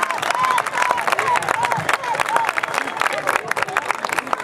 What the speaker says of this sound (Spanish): ¡Fuertes las palmas!